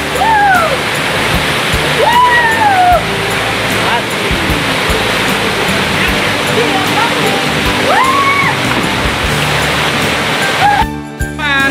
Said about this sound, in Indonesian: Ini air terjun kedua.